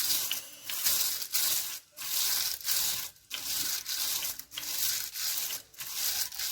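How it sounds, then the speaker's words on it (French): A paint brayer rolls ink back and forth across aluminium foil, giving a rhythmic series of sticky, hissing rubbing strokes with short pauses between passes, close and fairly loud, with no voices. "avec le brayeur, je vais venir étaler"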